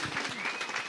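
A short burst of dense applause from a crowd, even and sustained throughout.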